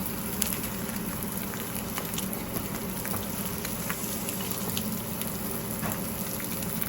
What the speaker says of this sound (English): I'm going to fry those up real good